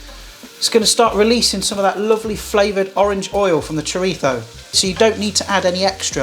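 Chorizo sizzling and frying in a hot pan as its orange oil renders out, a steady crackle running under a person talking close by.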